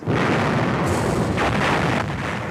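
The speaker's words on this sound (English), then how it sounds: "suddenly there was an enormous artillery barrage." A heavy, continuous roar of World War II artillery barrage fire, dense booming blasts merging into one sustained rumble with no voices.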